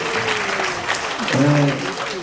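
Clapping at a lecture in a Korean development forum, a short burst from the audience mixed with a speaking voice.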